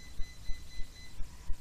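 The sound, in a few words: home alarm system sounding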